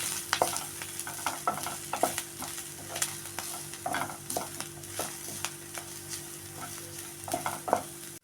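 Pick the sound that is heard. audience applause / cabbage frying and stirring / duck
cabbage frying and stirring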